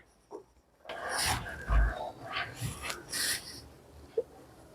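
Garlic and ginger pounded in a kundi mortar while mustard oil heats for a cauliflower pickle, giving a run of dull, rasping thuds and grinding strokes at close range, fairly quiet overall.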